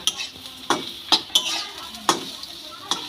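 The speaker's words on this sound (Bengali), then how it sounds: "জল দিয়ে সমানে খুন্তি এরকম নেড়ে চেড়ে সুজিটা তৈরি করে নিতে হবে" A spatula stirs semolina upma in a pan: repeated scraping strokes, roughly one every half second to second, close and moderately loud over a soft background sizzle, with no talking.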